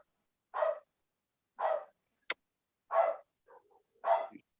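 Dogs barking over an online meeting connection, four evenly spaced sharp barks, fairly loud and clipped, with a click and a faint whine between them and silence around each.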